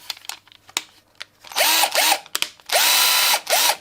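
A cordless drill run on a Parkside battery whirs in short bursts, spinning up and stopping several times, with clicks and small handling noises between runs.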